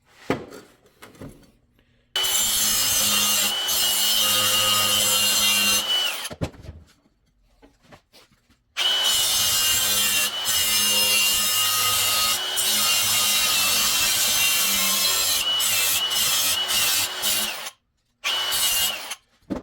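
A grinder cuts out part of the car in a home shop while an intercooler is fitted to a Chevrolet Caprice with a 6.2 diesel, in two long, loud, steady whining bursts separated by a short pause, with no talking.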